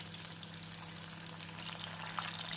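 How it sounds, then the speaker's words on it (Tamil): Bajji chillies fry in hot oil with a steady, soft sizzle and crackle that holds evenly throughout, under a faint low hum and with no talking. "எண்ணெய் சூடானதும் மிளகாயை பொரித்து எடுத்து விடலாம்."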